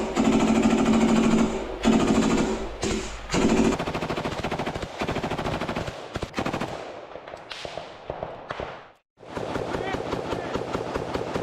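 Intense combat gunfire near a building rattles in rapid, loud automatic bursts, with a brief lull before the firing resumes, and voices speak under the shooting.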